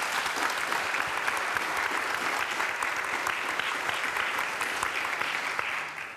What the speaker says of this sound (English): A big applause to them because of winning this award.